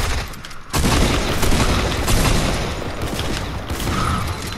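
Gunfire in a Fortnite match, a loud dense burst of rapid shots and booms that starts after a brief lull and continues steadily to the end, with no talk.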